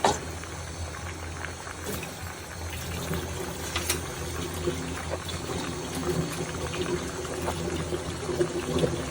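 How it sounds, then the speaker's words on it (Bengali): Water pours into a pot of Eid sacrificial meat cooking with whole spices such as black and green cardamom, star anise, cloves, pepper and cumin, a steady trickling splash over a bubbling simmer, close and moderate throughout. "পানি দিয়ে দাও কিছু দাও কিছু এটা দাও"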